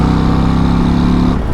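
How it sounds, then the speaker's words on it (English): A Harley-Davidson with a stock titanium Screaming Eagle exhaust rumbles loudly up close, a deep steady throb that drops away sharply near the end. "the stock titanium Screaming Eagle exhaust sounds really good"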